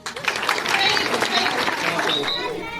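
Children in a science exploration session clap for a boy who did the most, a short burst of applause mixed with young voices and chatter, fairly close and continuous.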